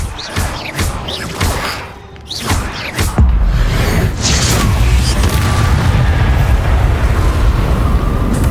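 Expelliarmus spell cast during combat in Hogwarts Legacy, a burst of sharp magical cracks and whooshes followed by a loud, sustained rumbling boom that fills the rest of the scene.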